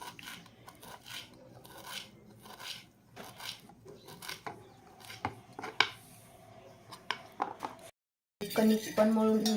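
Fresh coriander leaves being cut for a spicy potato dry curry: a close series of irregular crisp snips and chops. The cuts pause briefly, then give way to a denser, louder rustling stretch.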